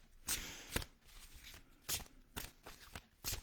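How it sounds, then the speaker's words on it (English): Fairy oracle cards are shuffled by hand in a few soft riffling bursts with brief pauses between them, close up and fairly quiet, with no talking. "I am going to shuffle and see which fairy is going to come forward for us today"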